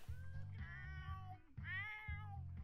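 A cat meows twice, clear and close, with a steady low electronic hum underneath; a cat in the video game The Sims.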